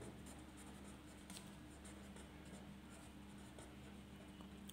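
Pen or pencil scratching steadily across paper while working out a Class Seven maths solution by hand, a faint continuous writing texture with no pauses, recorded close over a low background hum.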